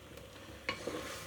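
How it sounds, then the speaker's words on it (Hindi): Food fries in a pan for a chana chicken dish, giving a soft, steady sizzle with a couple of brief scraping stirs, faint and close with no voices. "थोड़ी देर हम इसको भूनेंगे।"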